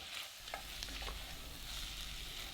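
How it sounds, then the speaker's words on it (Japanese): Vegetables stirred in a cocotte pot for beef bourguignon, a soft scraping stir over a faint simmering sizzle, quiet and close. "蓋を開けた時、内側についている水滴を鍋の中に戻してよく混ぜます。"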